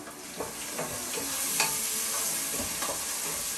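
Onions sauté in a hot pan for a Sri Lankan home-cooked meal, with a steady sizzle under repeated scraping stirs of a spoon. Close and continuous, with no voices.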